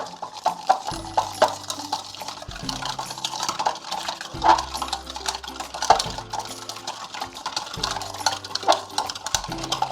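A spoon or whisk clinks and scrapes in a bowl as oil and vinegar are mixed into a salad dressing, with quick irregular taps and rattles close by and no voices.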